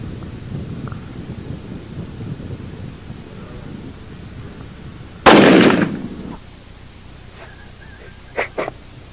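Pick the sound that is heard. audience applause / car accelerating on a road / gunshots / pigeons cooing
gunshots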